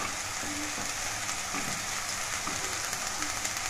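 Vegetables for a simple vegetable soup sizzle steadily in a pan as chopped beans go in and get stirred, a dense continuous hiss with faint scraping under it and no talking.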